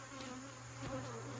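Honey bees hum around an opened, agitated hive in a steady, close buzzing drone that swells slightly toward the end of the short stretch.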